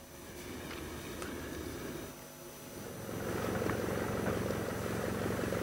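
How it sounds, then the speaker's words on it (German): A Republic P-47 Thunderbolt fighter plane flies with a steady, droning propeller engine. The hum dips briefly, then swells louder and holds, and no voices are heard. "Bud Mahurin kam nach England, um die wuchtige P-47, den Thunderbolt, zu fliegen"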